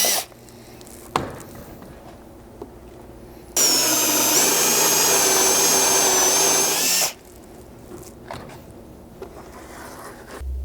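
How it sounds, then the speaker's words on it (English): A power drill bores holes through a rear window MOLLE panel, a loud steady whine lasting about three and a half seconds, set between quieter stretches with a few faint clicks and handling knocks. "Now drilling back through the front side, we're going to open these up to accommodate our longer 5/8 inch spacers."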